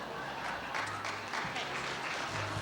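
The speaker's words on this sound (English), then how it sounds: "Give her a nice round of applause," A studio audience at a 1989 variety show gives a round of applause, an even, moderate patter of many hands with a faint low hum beneath.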